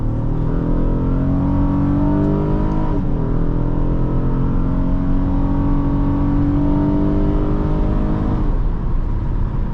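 A 2010 Acura MDX with a 3.7L V6 accelerates hard from inside the cabin, the engine note climbing steadily through the revs in a loud, continuous pull, with a quick drop at the upshift near the end.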